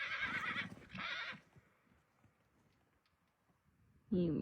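A stallion neighing, a loud close whinny in two bursts at the start, then quiet with faint stirring before another loud vocal burst at the end.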